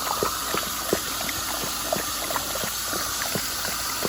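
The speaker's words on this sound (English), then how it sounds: "I can fill the water bowl and they can drink out of it at the same time" Water from a hose splashing into a dog's water bowl outdoors, a steady close hiss with small irregular splashes and drips throughout.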